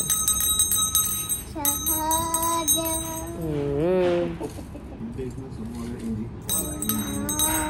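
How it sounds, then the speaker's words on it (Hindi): Bells ring repeatedly during a Hindu aarti puja at home, rapid metallic clanging in bursts, with chanting and voices singing through the middle. "अभी आरती हो गई तो पूरा घंटी बजा रहे"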